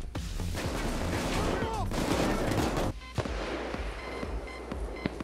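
Gunfire aimed at the player during a PayDay 2 train heist: dense, continuous volleys of shots and crackling impacts, loud and close, with a sharp drop in intensity about halfway through, followed by scattered sporadic shots.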